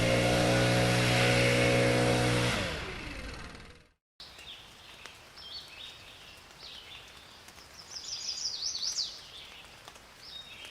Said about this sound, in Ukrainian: шум доща та спів пташок